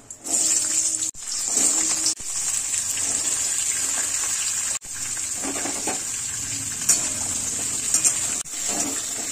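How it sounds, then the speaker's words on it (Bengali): Mixed vegetables tipped into hot oil already tempered with panch phoron, green chillies, a bay leaf and dried red chillies, giving a loud, steady rushing sizzle broken by a few brief dips. "এবার সবজিগুলো দিয়ে দেব"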